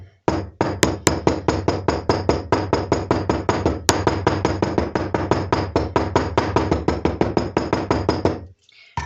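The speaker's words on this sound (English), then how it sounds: "I'm going to give it a tap with the hammer" A hammer taps rapidly and evenly on glued leather, dozens of sharp knocks in a steady rhythm for about eight seconds, close and loud, then stops.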